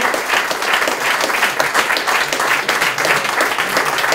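A crowd at a tribute to actor Dominique Paturel claps warmly and loudly, a thick, sustained wall of applause with no break.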